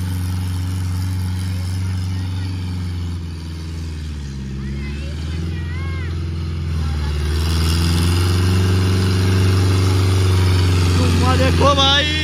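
A tractor engine works hard while pulling in a tug-of-war contest, a loud continuous low drone that rises in pitch and intensity partway through, with people talking and shouting over it.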